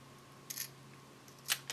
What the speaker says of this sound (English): I'm going to grab a pair of scissors, and I'm going to get rid of this